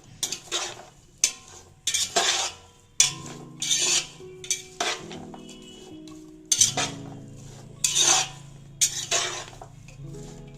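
Paneer frying in a pan as cumin powder is stirred in, with repeated loud metal spoon scrapes and clinks against the pan in an uneven rhythm over a low, ringing sizzle, no talking.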